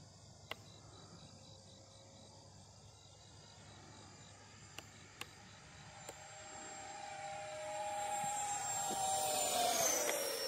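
A Freewing Zeus 90mm 8s RC sport jet at full throttle gives a faint, distant turbine whine that swells louder toward the end, over a bed of chirping insects and a few sharp clicks.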